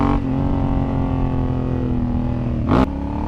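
A Honda Africa Twin motorcycle pulls hard out of a tight hairpin on a mountain road, a steady loud engine drone with a short rising burst near the end, no talking.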